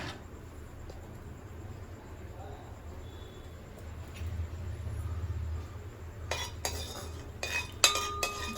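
Whole spices, including cinnamon, are stirred in hot oil in a pan for a Sunday mutton curry. A quiet, murmuring stretch gives way to several bright metallic spoon clinks and scrapes against the pan near the end.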